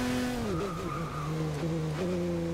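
Racing cars in a video game braking hard before a corner, an Audi among them, with tires squealing and engines dropping pitch in long sliding tones, loud and close, overlapping one another.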